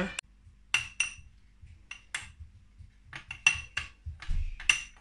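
Spoon clinking against glass verrines while layering cream for an Oreo dessert, a series of sharp bright taps and scrapes spaced irregularly, close and fairly quiet.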